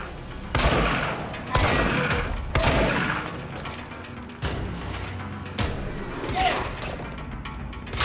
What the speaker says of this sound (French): Qui me tire dessus?